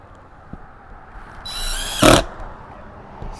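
Power drill driving new screws while a Maxxair Fan Deluxe is installed, a short whirring burst followed by a louder, brief grinding spin, close and alone against faint background noise.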